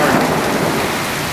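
Heavy downpour during a thunderstorm in the Dallas–Fort Worth area, a dense, loud, steady roar of rain pounding surfaces with thunder rumbling underneath, no gaps or voices.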